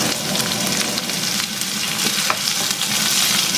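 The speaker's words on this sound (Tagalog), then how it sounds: "So, nag-brown na yung garlic habang nalalantay na yung sibuyas." Garlic and onion frying in a pan, a loud, dense, continuous sizzle heard close up with faint stirring underneath and no talking.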